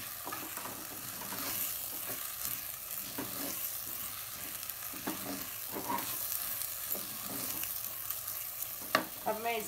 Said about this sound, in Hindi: थोड़ी देर घी में दाल को फ्राई करेंगे